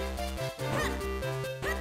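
Short yapping dog barks from the Zelda game The Minish Cap, a few quick electronic-sounding yips over steady looping game music, with no talking.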